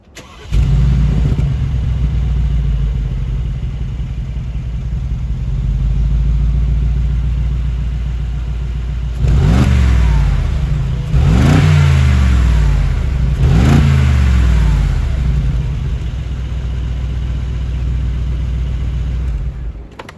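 A Mercedes-AMG G63 with a 585 hp engine roars at a deep, steady idle, then revs up sharply three times in quick succession before settling back into a loud, rumbling idle. No voices are present.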